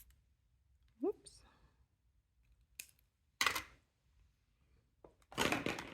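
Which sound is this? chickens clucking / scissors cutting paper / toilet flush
scissors cutting paper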